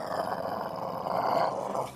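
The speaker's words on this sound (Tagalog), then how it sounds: "Ang dating maamong aso ay nginungurugan si Arsenio na nakayuko at may sinusubo" A dog growls as a sound effect in a spoken horror story, a continuous low, rough snarl that swells and holds for about two seconds, with no talking over it.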